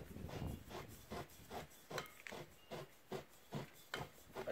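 A knife scrapes rhythmically around the foil capsule at the top of an old red wine bottle, giving about ten evenly spaced rasping strokes, close up and fairly quiet, with no talking.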